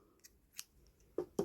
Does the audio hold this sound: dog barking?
no